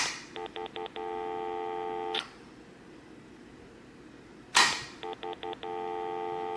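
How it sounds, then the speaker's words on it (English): An old landline telephone off the hook gives a steady tone that keeps breaking up, with bursts of clicks and short dialing pulses and two sharp clacks as the handset moves. No one talks. "you hear how the dial tone was just like cutting in and out like that"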